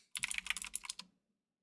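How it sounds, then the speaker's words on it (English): Fast, loud clicky keystrokes on a mechanical keyboard, a quick burst of about a second of close typing alone in a quiet room. "I have a mechanical keyboard."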